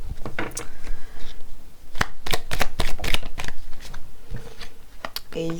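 Tarot cards being drawn and handled, a run of crisp slaps, flicks and shuffling riffles close by, interspersed with someone talking.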